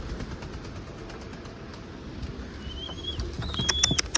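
Pigeons coo softly against a low outdoor rumble, with a few brief higher bird calls standing out near the end.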